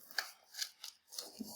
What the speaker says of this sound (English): even if I come now with my cruddy scissors, the cutting is a lot easier